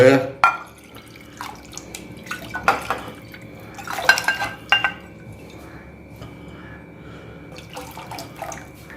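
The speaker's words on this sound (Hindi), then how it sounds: "ये 1 कप पानी और डाले।" A cup of water is poured into homemade South Indian buttermilk in a kitchen vessel, close and moderately loud, with splashing and dripping mixed with sharp clinks and knocks of utensils and pots over several seconds.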